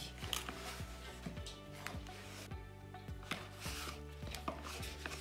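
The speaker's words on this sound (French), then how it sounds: "on tourne et on mélange assez délicatement pendant 1 minute, sans cesser de remuer" Quick puff pastry dough is stirred in a bowl, giving a faint, steady series of soft knocks and scrapes over a low continuous hum, with no voices.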